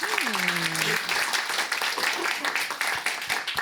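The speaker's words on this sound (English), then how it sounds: "Everyone's getting a little dash of 2 bits of applause." An audience at a book event applauds in a dense, steady round of clapping, with a voice heard briefly at the start.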